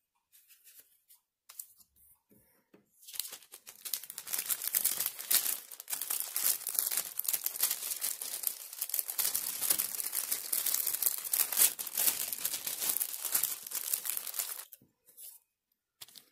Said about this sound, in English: I take the mask and I fold it in on itself